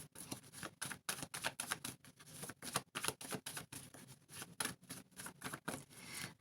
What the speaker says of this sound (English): I'll just pull some more cards and see what I get.